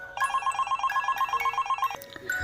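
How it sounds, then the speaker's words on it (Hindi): A telephone rings indoors in an apartment, a steady electronic trilling pattern repeating for about two seconds before cutting off, fairly clear and close with no one speaking. "फ़ोन बजता है"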